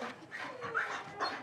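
A small, roughly 25-pound shelter dog pants and gives soft whimpering whines close by, with faint voices in the background.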